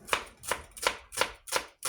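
A knife chops an onion on a board for a chickpea dish: six crisp, evenly spaced strikes in a steady rhythm, close and clear, with no talking.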